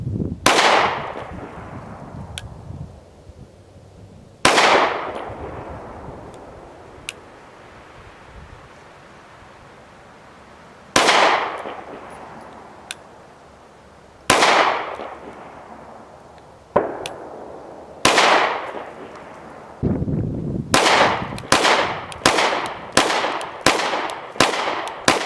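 An IWI Masada pistol fires suppressed shots at a shooting range, with single sharp reports spaced several seconds apart, each trailing off in a long decay, then a fast string of about seven rounds at the end.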